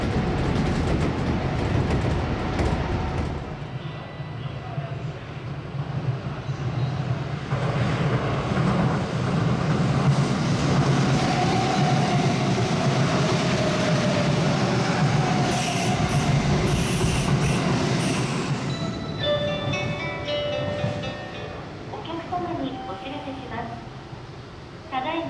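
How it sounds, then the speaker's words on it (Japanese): A Kintetsu rapid express on the Hanshin elevated line in Kobe runs through Mikage station without stopping, a loud, steady rail rumble that lasts throughout with rising wheel squeal and whine near the end. "魚崎駅を発車した快速急行は特急停車駅の御影駅を通過していきます。"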